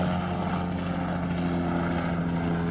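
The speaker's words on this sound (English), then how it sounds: "a helicopter is a ghetto bird" A helicopter in Compton drones steadily overhead, its rotor and engine producing a continuous tonal hum at moderate volume with no speech.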